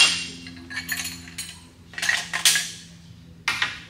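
A motorcycle shock spring compressor is released, with its catch freed and the pressure wound back off after the shock's circlip is removed, giving a series of sharp metallic clinks and clanks in irregular bursts, close and moderately loud, with no talk.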